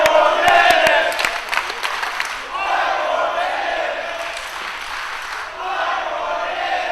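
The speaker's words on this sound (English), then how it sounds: "Crowd wants 5 more minutes." A wrestling crowd at a women's match chants in unison for five more minutes, the voices loud and rhythmic, with a few sharp claps near the start and the chant rising and falling in repeated waves.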